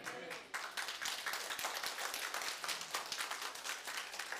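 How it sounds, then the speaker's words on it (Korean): Church congregation applauding during a Sunday worship sermon: dense, sustained clapping that fills the space, steady throughout after a brief start, with no speech. "설교를 하는데 박수까지 쳐주시고"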